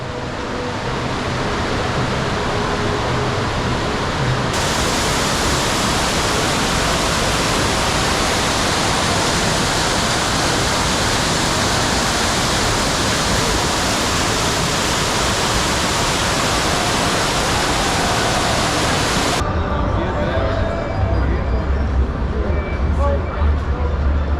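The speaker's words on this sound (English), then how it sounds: "Can hear the water." Water feature at a hardscape expo pouring steadily, a loud, dense, continuous rush of flowing water that stays close and unbroken throughout.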